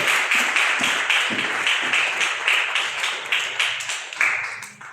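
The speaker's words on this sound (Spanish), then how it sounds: "Ayuden al hermano y aplaudan con él." A church congregation clapping along in steady rhythm for several seconds, a dense, loud patter of many hands with no talking over it.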